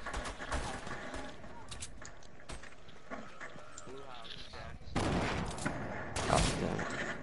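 Video game gunfire rattles in bursts and scattered shots beneath excited talking between players, moderately loud, with a heavier flurry near the end.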